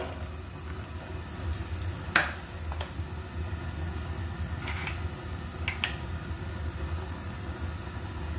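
Eggplant pieces drop into hot soybean oil in a pan while a bitter eggplant mash is being made, giving a steady frying hiss broken by a few sharp clatters as the pieces go in.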